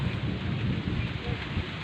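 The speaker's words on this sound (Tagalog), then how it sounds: "Ulan po siya talaga. Umuulan." Steady heavy rain pours down with a deep rolling rumble of thunder underneath, a dense continuous hiss close by.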